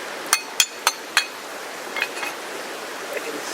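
Cast iron pie irons set down on rocks, four sharp metallic clinks in quick succession followed by a few fainter knocks.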